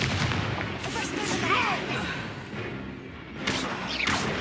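A Confringo fire spell blasts in Hogwarts Legacy, a roaring burst of game combat noise with crackling, booming impacts under a dense, loud soundscape, while a voice speaks briefly.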